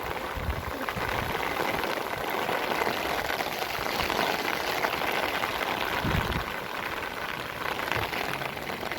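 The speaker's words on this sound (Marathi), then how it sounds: "आम्ही इथं पवना डॅमला आलेलो आहोत आणि इकडे इतका पाऊस आहे" Heavy rain at Pawana dam near Maval, Pune, a continuous hissing patter drumming close by, with a few heavier thumps as drops hit an umbrella overhead.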